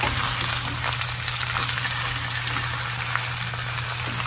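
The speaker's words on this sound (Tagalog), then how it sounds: "igisa lang natin yan" Ingredients for humba sautéing in a hot pan, a steady, close sizzle and crackle running continuously with a low hum underneath and no talking.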